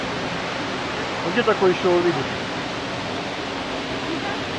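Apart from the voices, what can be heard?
waterfall in Dalat, Vietnam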